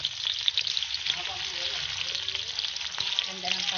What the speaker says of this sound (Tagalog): Gigisa nyo lang hanggang maging translucent ha